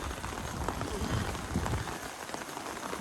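Steady night rain pattering on thriving plants and the ground, a dense, even hiss with scattered drop ticks throughout, no voices.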